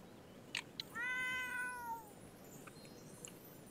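Cat meowing in the life-simulation game The Sims 4 Seasons: a couple of short chirps, then one drawn-out, wavering meow lasting about a second. It sounds fairly quiet and close, alone with no talk.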